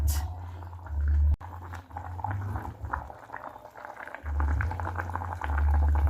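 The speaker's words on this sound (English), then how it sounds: "we're going to let that simmer down" Curry beef with potatoes simmers in a pot, heard as close bubbling and gurgling liquid with a low steady rumble that cuts out briefly and resumes.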